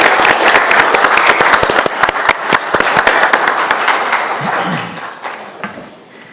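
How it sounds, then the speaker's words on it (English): Audience applause for Al and Bonnie Berger at a city council meeting, steady loud clapping that thins out and fades toward the end. "Give them a round of applause."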